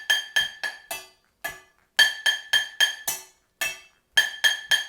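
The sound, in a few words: small pan struck with a wooden spoon as a kitchen instrument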